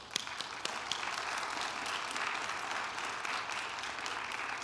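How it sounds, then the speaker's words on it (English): An audience at a high school post-secondary education night applauds the guest speakers, a fairly quiet, even spread of clapping across a large room. "can we just give them a round of applause?"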